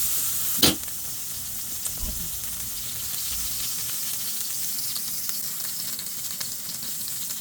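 Asparagus frying in a pan with paprika, black pepper, garlic and sea salt, a steady close sizzle with a sharp clatter near the start and soft stirring scrapes.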